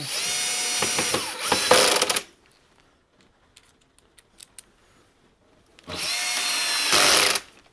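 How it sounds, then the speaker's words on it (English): A small cordless screw gun with its clutch set very light drives screws, giving two loud whirring bursts of about two seconds each, separated by a quiet gap with faint clicks and handling noises, close to the listener. "The clutch set very light on this little screw gun."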